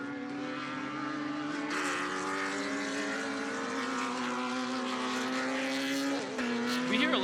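Off-road championship race cars roar past on a dirt track, a sustained, loud engine drone with overlapping pitches as several vehicles run together, rising briefly near the end.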